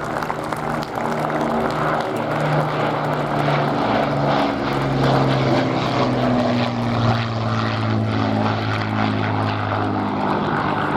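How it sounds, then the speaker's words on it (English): Spitfire and Hurricane propeller fighters of the Battle of Britain Memorial Flight make a final flyby at the Royal International Air Tattoo 2022, a loud, continuous piston-engine drone whose pitch slowly rises and falls as they pass. "we see the Spitfire and Hurricane doing one final flyby"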